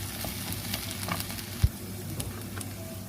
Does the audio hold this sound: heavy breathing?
no